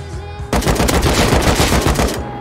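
Gunfire in the video game Rust, a rapid burst of automatic shots after a brief quiet start, loud and close, continuing for nearly two seconds.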